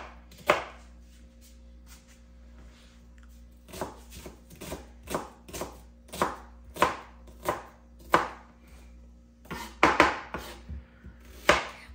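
A knife chops Chinese steamed pork bun filling on a board with a run of sharp, irregular thuds and clusters of quick strikes, close and clear over a steady low hum.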